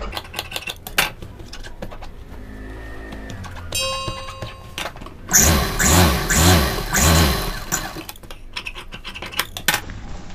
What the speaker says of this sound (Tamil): இப்போ நம்ம இதுக்கு மேல் தையல் போட்டுக்கலாம்